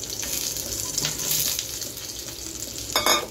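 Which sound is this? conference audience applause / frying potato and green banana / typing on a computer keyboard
frying potato and green banana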